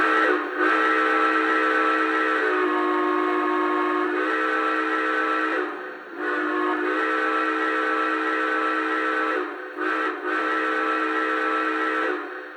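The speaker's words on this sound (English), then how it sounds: "let's check out the whistle, and this does come with a choice of 5 different whistles" Steam whistle on a Lionel Dreyfuss Hudson model train, one of five selectable whistle sounds, blowing loud and sustained in several long blasts with brief breaks between them, no talking.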